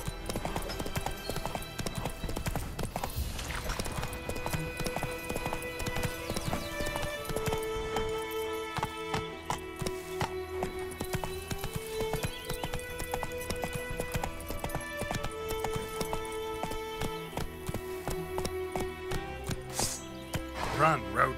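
Horse hooves clip-clop at a gallop in The Witcher 3, a steady pounding rhythm under game music with an occasional whinny and in-game speech.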